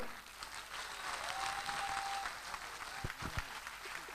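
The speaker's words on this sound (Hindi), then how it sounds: "और ये वो जोरदार तालियां दोस्तों, कम ऑन।" Loud applause from a seminar crowd after a motivational speech at a diamond business event in Agra, dense continuous clapping with a few sharp louder claps near the end, no talk over it.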